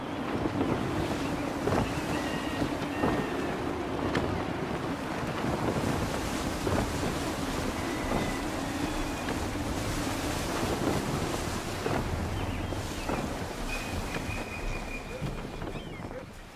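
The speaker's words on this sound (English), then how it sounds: "Gusty winds can be difficult to manage." Gusty wind roars over a sailing ship at sea in the video game Assassin's Creed 3, mixed with rushing waves and creaking rigging. The noise is steady and loud with brief voices under it.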